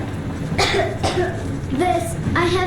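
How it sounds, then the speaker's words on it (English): A child character in the video game Metro Exodus coughs repeatedly, several close, hacking coughs in an uneven rhythm over a steady low background hum. "I have this cough."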